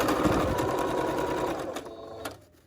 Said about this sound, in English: Some return stitch to secure the elastic.